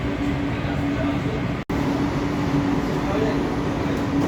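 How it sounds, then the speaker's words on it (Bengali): A metro train running toward Dum Dum on a first commercial ride, heard as a steady rumbling rail and carriage drone with air-conditioning hum, broken by one brief dropout. "এই দূরে দেখা যাচ্ছে ট্রেনটা যাচ্ছে দমদমের দিকে, মেট্রোটা যাচ্ছে।"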